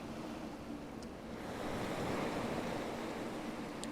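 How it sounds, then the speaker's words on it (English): Ocean surf in Final Fantasy XIV: A Realm Reborn washes in as a steady, soft roar of breaking waves, swelling a little louder midway through with no voices. "Calming sounds of the ocean."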